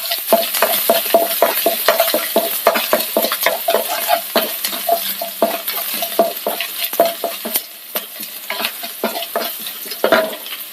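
Garlic and ginger frying in hot oil in a pan for soya chunks dry fry, a continuous close sizzle with constant stirring scrapes and light clicks throughout, no voices.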